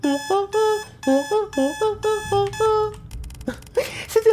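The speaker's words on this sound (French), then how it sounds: "C'était la chanson de l'alarme" A musical alarm tune rings in a Roblox game, a repeating pattern of bright electronic notes in quick bursts, loud and close, before cutting off into a brief exclamation.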